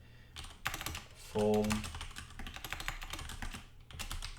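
Code being typed on a computer keyboard, a fast irregular patter of close key clicks that runs steadily throughout, with a brief tonal beep in the middle.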